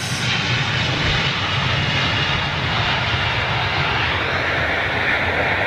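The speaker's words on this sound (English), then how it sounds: "But Middle East Airlines A330, slightly more rare than the average." Middle East Airlines Airbus A330 jet departing Heathrow, a steady, loud broadband engine roar that holds evenly throughout with no talk.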